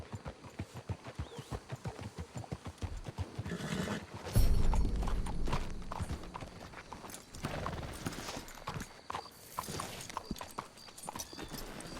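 Rhythmic clip-clop of horse hooves trotting on hard ground in the video game Red Dead Redemption 2, steady and close, with a brief louder rumble and a snort partway through.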